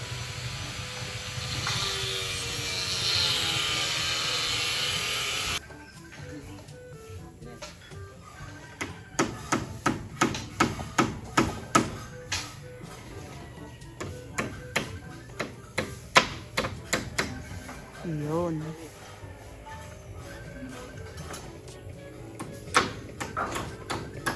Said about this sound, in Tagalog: Dahan-dahan po ang pagpukpok at uh, ah, nang ng kapag ka napalakas ay baka mag-crack.